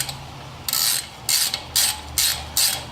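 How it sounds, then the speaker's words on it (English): Ratchet wrench loosening a T30 Torx bolt on Ford Freestyle front brakes, four quick rhythmic bursts of clicking pawl close by, with no talking. "loosen up the T30 Torx, which is this bolt here."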